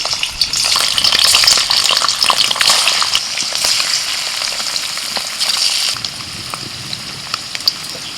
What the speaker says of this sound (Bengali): কড়াইতে সাদা তেল গরম হতে দিয়েছিলাম তো তেল গরম হয়ে গেলে পনির ছেড়ে দিচ্ছি